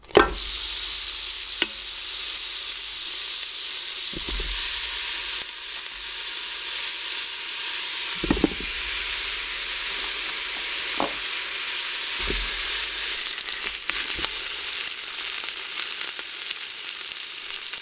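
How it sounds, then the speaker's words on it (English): Beef short ribs brown in a Ninja Foodi with a steady, strong sizzle and hiss, broken by a few soft thuds and clinks as the meat is moved. "Babe is going to drop in the short ribs just to brown them and get a little crust on each side of them"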